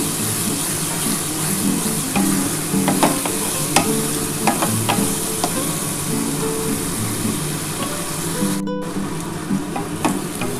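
Onion masala for a fish curry being stir-fried in a pan, a loud continuous sizzle with repeated scraping and clinking of a spatula, a brief dropout near the end.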